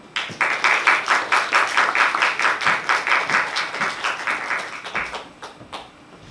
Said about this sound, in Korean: 뜨거운 박수로 맞이하여 주시기 바랍니다